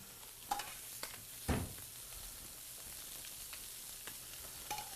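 Fish pieces fry quietly in a pan with a soft, steady sizzle, broken by a few light clinks and scrapes of stirring, one thump standing out early on.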